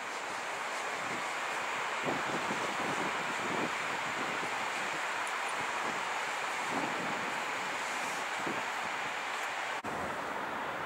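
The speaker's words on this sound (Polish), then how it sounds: "Trochę dzisiaj wieje." Steady wind rushes and buffets against the microphone at a railway station in Warsaw, a continuous broad whoosh with low gusty thumps throughout.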